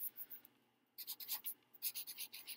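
A permanent marker scratches across a shoe in quick, close, rhythmic strokes, with a short pause before a faster run of squeaky rubbing marks.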